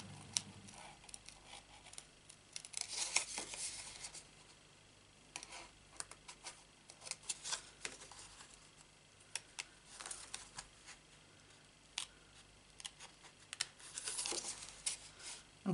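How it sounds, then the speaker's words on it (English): Scissors cutting leaf shapes out of card: an irregular series of soft, close snips and papery crinkles, starting and pausing throughout, with no talking. "all I did was cut them out, just following the leaf"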